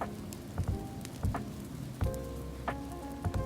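Rain falls steadily in a wet, hissing patter on a surface, with irregular soft drip impacts standing out, close and continuous with no voices.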